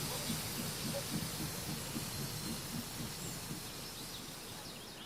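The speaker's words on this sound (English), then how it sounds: "passenger steam trains still run out of Alresford, travelling east through Ropley and then onto Alton" A passenger steam train runs on the Watercress Line near Alresford, a steady faint hiss and rumble of steam and rolling stock, continuous and distant, with no voices.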